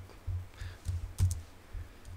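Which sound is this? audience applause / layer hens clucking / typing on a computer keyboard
typing on a computer keyboard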